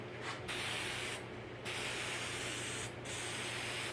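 Black enamel base coat sprayed onto a brass elevator panel gives a steady, close hiss broken by brief pauses as the spray is released and pressed again.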